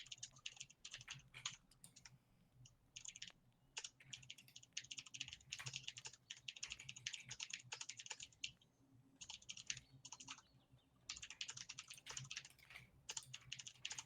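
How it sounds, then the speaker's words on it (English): Rapid bursts of keystrokes on a computer keyboard, close and fairly quiet, coming in uneven runs separated by brief pauses. "He's typing in."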